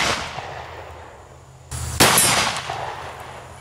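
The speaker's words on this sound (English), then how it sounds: "the 4570 305 grain extreme penetrator plus P went through that steel" A .45-70 rifle fires a 305-grain Underwood Extreme Penetrator +P round into a steel target: one sharp, loud report, then a second hard impact with a lingering ring. No voices.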